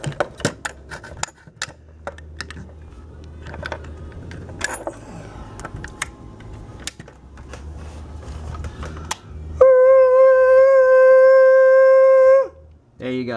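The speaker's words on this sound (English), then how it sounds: "Side band, so I'm gonna have to make a crazy noise." Sideband transmission from a KN Q7A QRP ham radio keyed into a dummy load: a few seconds of steady, loud harmonic tone held alone near the end, after a stretch of faint clicks and handling noise.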